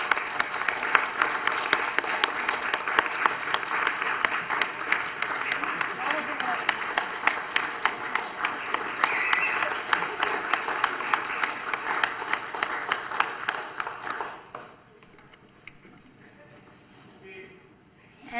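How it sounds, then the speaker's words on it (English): Councillors and staff in a city council chamber give a long round of applause, a dense patter of many hands that tapers and stops near the end, leaving a quiet room. "I just would call for a round of applause at the moment and then comments."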